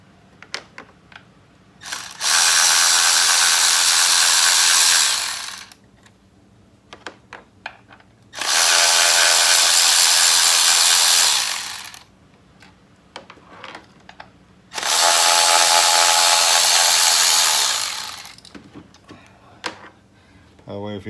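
A Milwaukee 3/8 power ratchet removes bolts while changing spark plugs and coil packs, three loud, close buzzing runs of about three seconds each separated by pauses with small clicks and handling noises.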